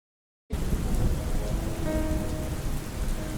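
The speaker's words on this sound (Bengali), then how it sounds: "হঠাৎ করে এ কি বৃষ্টি শুরু হলো বলো তো?" Heavy cartoon rain bursts in after half a second of silence and pours steadily and loudly, a dense broadband downpour with faint tonal elements appearing midway.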